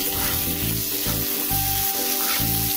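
Fried onions are stirred into a sizzling pan of spicy pointed gourd seed curry, giving a continuous frying hiss over a repeating, pulsing tonal hum in the background.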